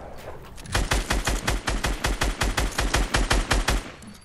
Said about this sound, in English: There's more guys shooting at us from the east.